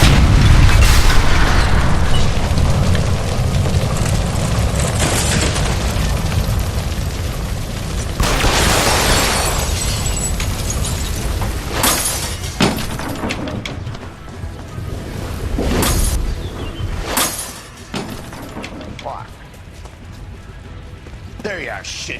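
A gas line blows up in the 1940s Los Angeles setting of the video game L.A. Noire, a loud booming blast with rumbling debris that continues under shouted voices and game music.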